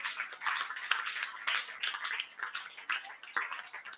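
A crowd at Maker Faire Trieste 2022 claps for the makers. The applause is dense and steady, with many overlapping hand claps lasting a few seconds.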